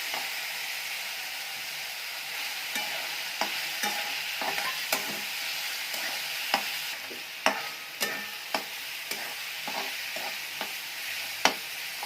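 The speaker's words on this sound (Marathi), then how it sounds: "अशा प्रकारे व्यवस्थित टोमॅटो थोडा शिजवून घ्यायचा आहे।" Tomato and boiled potato with turmeric and salt cook in a pan for potato dosa masala, with a steady sizzle under repeated scraping stirs of a spoon, close and alone.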